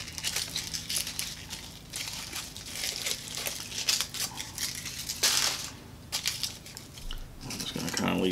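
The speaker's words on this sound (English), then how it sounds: "Take the foil off." Aluminum foil is peeled off a wrap sandwich that has been cut in half, giving close, irregular crinkling and crushing sounds in bursts, with a few sharper crackles. A voice is faintly present at times.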